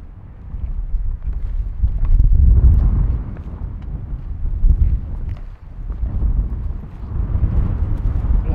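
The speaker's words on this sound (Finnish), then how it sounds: "Käy tuuli." Wind gusts outdoors at a wilderness lakeshore in Finnish Lapland. They buffet the microphone with heavy low rumbling that rises and falls in surges.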